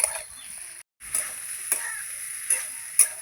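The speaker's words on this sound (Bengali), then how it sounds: "এই যে আলু বেগুন কিন্তু আমি ভালো করে কষাচ্ছি" Potato and eggplant being stir-fried with spices in a pan, a steady sizzle broken by a brief silent gap and sharp scraping stirs and clinks of the spatula.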